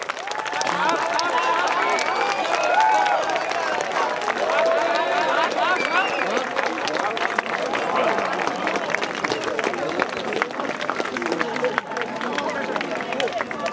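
An outdoor lawn-concert audience applauds a band, steady dense clapping with some cheering that runs throughout, mixed with crowd voices and talk.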